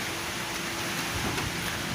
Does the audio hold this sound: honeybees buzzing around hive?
no